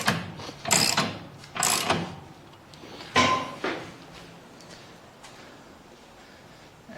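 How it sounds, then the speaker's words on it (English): A jack raises a Harley-Davidson CVO motorcycle for suspension work, a few loud metallic ratcheting clicks and clunks in a slow uneven rhythm, close up, trailing into quiet. "Now I'm going to jack it back up."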